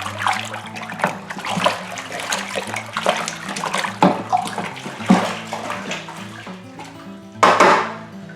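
Oak chips being stirred into parsnip wine in a fermenting vessel, giving a close, sloshing churn of liquid with splashes and knocks against the container, surging louder near the end.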